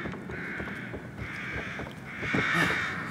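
Several crows caw in repeated bursts in the video game The Evil Within, growing a bit louder toward the end, with harsh raspy calls set against faint ambient noise.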